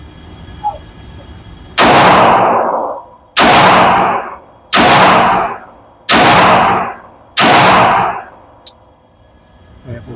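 Five loud, close pistol shots from a Rock Island Armory .45 ACP, spaced roughly a second and a half apart, each with a sharp crack and a short decaying echo, over a quiet outdoor range.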